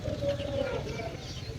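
Ducks cluck and chatter softly in a brief, continuous stretch, with a low background rumble and no voices.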